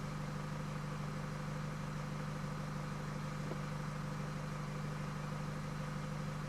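A remapped Nissan X-Trail with EGR and DPF delete, under repair for loss of power and misfire at 3000 RPM, runs with a steady, close engine drone and a constant low hum, no voices.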